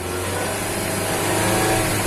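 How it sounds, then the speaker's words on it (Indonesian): The engine of a used car is revved during an exhaust check, giving a steady, dense mid-pitched drone that holds even and close throughout without distinct breaks. "Ini bisa sambil digas-gas ya ketika memeriksa gas buang"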